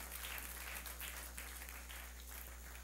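A church congregation applauds the Lord together, a steady wash of many hands clapping at moderate distance over a low background hum, continuous for a few seconds without talk.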